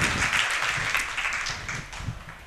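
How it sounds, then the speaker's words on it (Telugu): A church congregation clapping together in praise, a dense burst of many hands applauding close by, steady for a couple of seconds then thinning slightly. "చప్పట్లు కొట్టి దేవుని మహిమపరుస్తాం."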